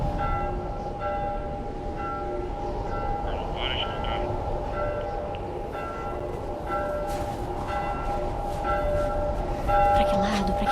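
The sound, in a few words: deafening bell ringing nonstop in The Last of Us video game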